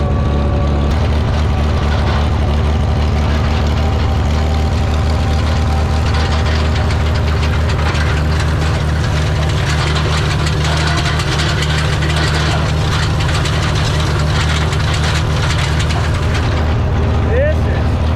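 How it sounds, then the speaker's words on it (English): Farmall 460 tractor engine running rough and knocking while tedding hay in a field, a loud, steady low rumble up close with a rapid irregular knock, under occasional talk. "Tractor's starting to sound like it's acting up a little bit again."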